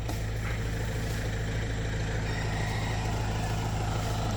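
A 70-horsepower farm tractor runs steadily while driving a palm frond shredder in an oil palm plantation in Krabi, giving a continuous loud, low engine drone with a constant mechanical whir and no pauses.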